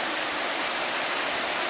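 Waves wash continuously against the Lake Superior shore about an hour south of Wawa, Ontario, a steady broadband rush with no distinct breaks and no voices.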